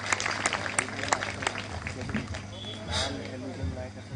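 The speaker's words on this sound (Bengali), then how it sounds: "পাস্টার বরুণ দারিং, ওনার জন্য একটা আর একটু হাততালি দেই।" Applause for Pastor Barun Daring at the Garo Baptist Convention's annual general meeting, scattered claps from an indoor crowd, moderately distant and uneven, with voices murmuring underneath.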